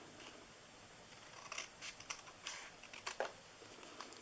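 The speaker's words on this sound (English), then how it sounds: "Then on this top one, we're going to cut these two here off." Scissors snip paper for a small DIY treat box, a run of sharp close cuts in quick succession, crisp but quiet against a near-silent room.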